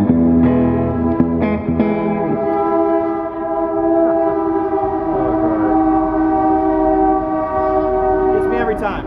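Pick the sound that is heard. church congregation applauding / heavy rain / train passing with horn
train passing with horn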